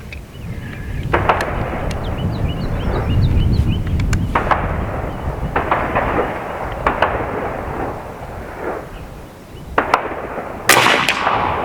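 A Seneca Dragon Claw .50 caliber PCP air rifle fires with sharp reports, several distinct cracks spread across the clip over outdoor background noise, the last shots followed by loud bursts.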